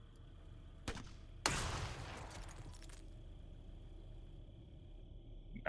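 In the video game Xenonauts 2, a faint weapon shot pops, then a louder blast follows with a short rumbling tail that fades into quiet background.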